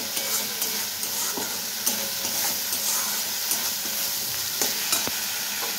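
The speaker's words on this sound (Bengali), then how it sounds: "এখন এটাকে শুধু কষাবো" Tomatoes and spices sauté in a pan, giving a steady close sizzle with repeated scraping stirs and a few sharper clicks of a utensil against the pan.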